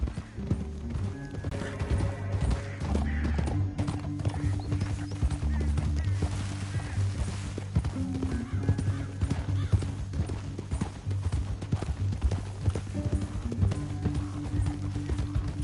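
Horse hooves clip-clop steadily in Red Dead Redemption 2, riding under a dense game soundscape of music and ambience for the whole stretch.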